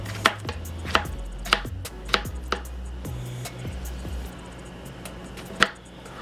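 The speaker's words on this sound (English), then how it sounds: "take your cucumbers and slice those into pieces" Cucumbers sliced into pieces on a cutting board, a series of crisp knife chops that land irregularly, close and clear over a quiet background, about ten cuts in all.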